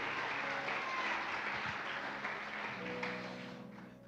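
A church congregation applauds steadily at a sermon, a dense continuous wash of hands that holds level and then tapers off in the final second.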